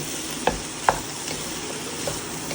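Boneless chicken and noodle ingredients being stirred together in a pan, a few distinct spoon scrapes over a steady low sizzle, with no talking.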